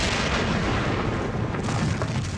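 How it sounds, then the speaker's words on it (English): Dense artillery barrage with deafening explosions, as in the Gettysburg bombardment before the attack on Union defenses: a continuous loud roar of booms and rumbling blasts filling the whole stretch without pause. "a giant artillery barrage intended to soften up the Union defenses before the attack began with a deafening explosion"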